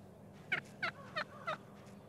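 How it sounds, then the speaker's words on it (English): Eastern wild turkeys give four short, clear gobbling calls, evenly spaced about a third of a second apart, heard moderately close over a quiet outdoor background with no talking. "These are eastern wild turkeys"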